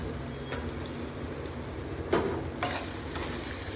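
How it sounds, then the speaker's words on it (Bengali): Ginger sizzles with reddened onions in a pan while being stirred, a steady close frying hiss broken by a couple of soft utensil knocks. "আদাটা দিয়ে ভালো করে লড়ে নাও"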